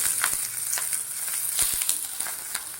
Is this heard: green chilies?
yes